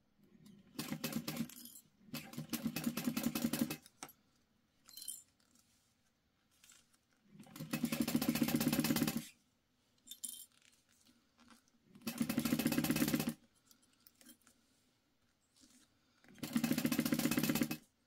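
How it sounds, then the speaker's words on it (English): A sewing machine back stitches a clutch bag in repeated bursts of fast, close mechanical whirring, each run a second or two long, separated by quiet pauses. "we're just back stitching at the start and stop of each"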